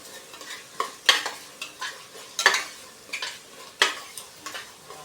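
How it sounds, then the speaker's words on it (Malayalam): Ginger garlic paste sautéing in a pan for Kerala-style mutton curry, with a soft steady sizzle and repeated scraping stirs that land every second or so, close and fairly quiet, with no talk. "ഇഞ്ചി വെളുത്തുള്ളി പേസ്റ്റ് ഇട്ടതിന് ശേഷം 2 മിനിറ്റ് നല്ലപോലെ വഴറ്റി കൊടുക്കാം"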